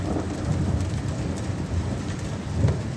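Thunderstorm with steady rain pouring down, low rumbling thunder rolling underneath and swelling near the end, loud and continuous with no voices.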